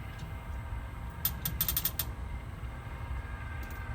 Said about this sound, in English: That wrench starts moving.